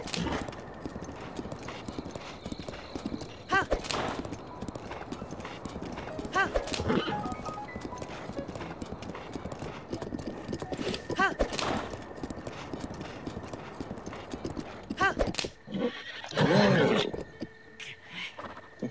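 Steady clip-clop of a horse's hooves in Zelda: Breath of the Wild at a brisk rhythmic pace, with sharp louder hoof strikes and a brief whinny near the end.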